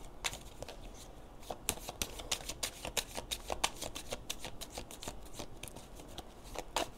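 Tarot cards are shuffled close up in a quiet room, a quick string of crisp riffling flicks and slaps repeating for several seconds without talk.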